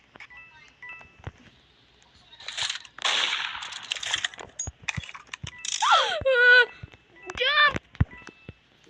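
Gunshots in the Roblox game Murder Mystery: sharp cracks from about 2.5 to 4.5 seconds, with a whooshing effect and squeaky in-game sounds after them over a quiet background.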